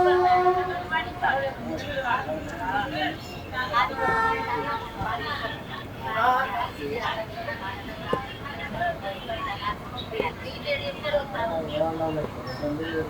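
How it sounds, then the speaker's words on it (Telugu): A Nagpur–Nagercoil express train approaching and rumbling past on a neighbouring line as heard from aboard a moving MEMU train, steady rail noise and rattling under ongoing chatter and voices in the carriage. "ఏదో ట్రైన్ వస్తుంది."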